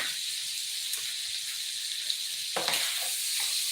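Shrimp sizzle and hiss steadily in a pan of hot oil and butter, a continuous close frying crackle with a brief louder burst of spatter as they are tossed partway through.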